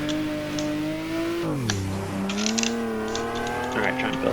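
A car engine climbs through the gears on the Ebisu Minami circuit, a steady droning whine that dips at a shift and then rises again, with faint tire noise over continuous road roar.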